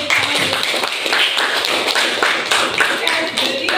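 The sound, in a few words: classroom applause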